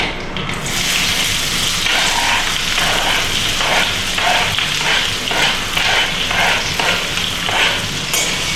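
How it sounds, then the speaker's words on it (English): Onion frying in a pan during cooking at a nature cure retreat in Goa, a loud, dense and steady sizzle with faint stirring, close up and without talk. "Then we add the onion."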